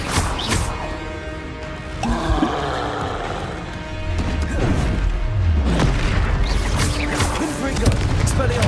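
Confringo fire spells detonate in Hogwarts Legacy, a run of loud booming blasts and crashing impacts, one after another over a dense, rumbling game soundscape.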